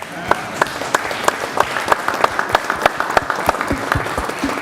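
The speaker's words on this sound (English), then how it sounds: "We can clap on that one." An audience at a Hispanic Heritage program claps in a sparse, fairly even rhythm of individual hand claps, moderately loud and close, continuing through the short span.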